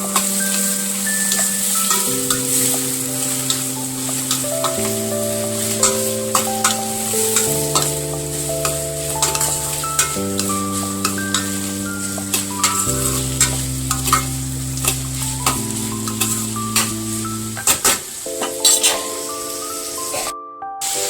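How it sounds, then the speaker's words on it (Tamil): Chopped vegetables stirred as they fry in a pan, a steady loud sizzle broken by repeated scraping strokes, with a tonal musical backing throughout and no talk. "நம்ம கட் பண்ணி வச்ச எல்லா வெஜிடபிள்ஸும் ஆட் பண்ணிக்கலாம் ஆட் பண்ணிவிட்டு கிளறிக்கலாம்"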